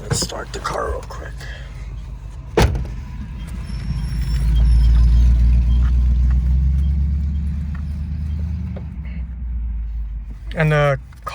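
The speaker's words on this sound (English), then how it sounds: "Let's start the car real quick." A 1997 Honda Civic EX with a swapped K20A Type R engine cranks and fires, then settles into a loud, deep, steady idle for several seconds, with brief talk before and after.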